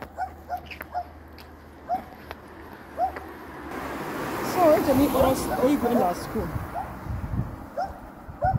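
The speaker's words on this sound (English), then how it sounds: "Hold that dog, hold that dog." A dog barks, yips and whimpers in short repeated bursts, fairly close, while people talk over it, with outdoor background noise rising in the middle.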